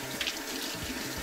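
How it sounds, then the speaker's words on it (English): Cold tap water runs steadily into a sink as scallions are rinsed, a continuous close hiss and splash with no speech. "We're going to wash our scallions in cold water."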